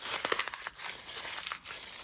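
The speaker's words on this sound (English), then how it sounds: "And then you would crumple all of these up." Sheets of paper are crumpled by hand for a textured sheep art project, giving a close, crackly crinkling in quick bursts with a short pause midway.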